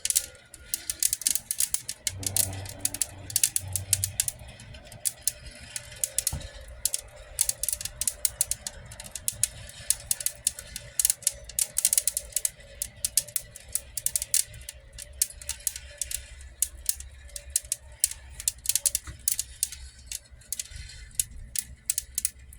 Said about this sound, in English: that cracking sound is the beans expanding and breaking off this little bit of husk